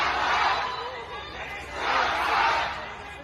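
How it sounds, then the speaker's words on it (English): A large crowd of protesters in Shanghai chants in rising and falling waves, massed voices swelling twice to loud peaks and easing in between. "A crowd of protesters in Shanghai chanted"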